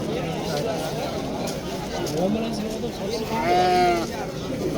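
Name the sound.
ram bleating at sheep market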